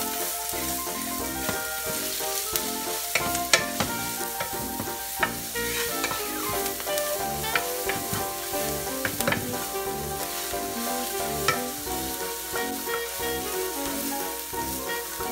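Shredded cabbage is stir-fried in a wok, with loud continuous sizzling broken by frequent scraping and tossing clatters of the spatula against metal, busy and close for the whole stretch.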